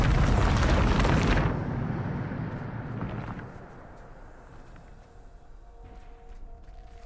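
A Bombarda spell blast in Hogwarts Legacy booms loudly in a broad, roaring burst for over a second, then trails off into a long rumbling decay and low ambient hum.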